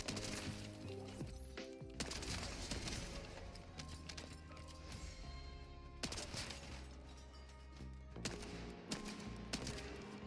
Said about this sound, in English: Let's see what this hand cannon can do.